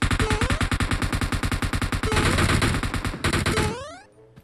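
Rapid automatic gunfire in PUBG Mobile, loud sustained bursts of shots in steady rhythm with a short pause, then a final volley that cuts off into quiet.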